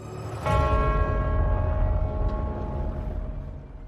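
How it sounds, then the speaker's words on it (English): A large church bell strikes and rings out, its rich, sustained tone with humming overtones slowly fading over a low rumble. "In London, the bells of St. Paul's rang out"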